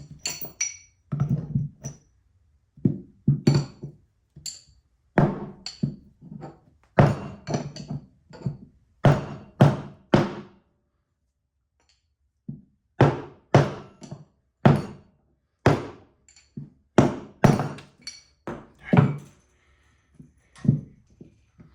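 Repeated hammer blows knock a part out of a PRM Newage gearbox during its rebuild for a Benford Amida site dumper. The hits are close, loud and irregular, with a pause midway before a second run of blows.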